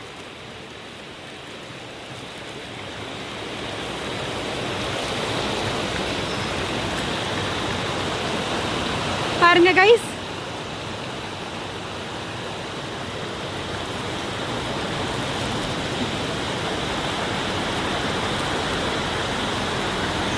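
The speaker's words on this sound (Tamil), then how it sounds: "இங்க மேல தண்ணி விழுந்துட்டு இருக்கு." Falling water pours steadily at the Karak temple near Genting Highlands, a continuous broadband hiss close by, briefly interrupted midway by a short sharp noise and a brief spoken remark.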